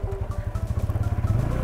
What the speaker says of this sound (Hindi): जो भी सर आवाज आपको सुनाई दे रहा है वो सारे मेरे बाइक के हैं